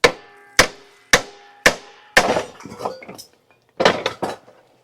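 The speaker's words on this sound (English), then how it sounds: "now I'm just going to squint, smack it with a hammer, and our spring should come out" Four sharp, evenly spaced metallic hammer strikes ring out up close on a 1967 Camaro part to free a spring, followed by a clatter of scraping metal parts and a few final clanks.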